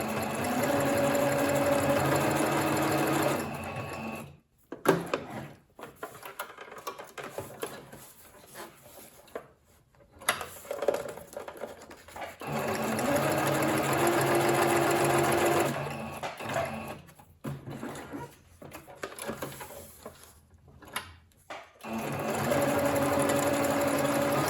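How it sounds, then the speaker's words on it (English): A sewing machine stitches fabric in steady, buzzing runs, starting and stopping between stretches of quieter handling noise and fabric movement, the motor whirring loudly and close during each burst of sewing. "just gonna stitch back and I'm gonna try to stitch like right next to it"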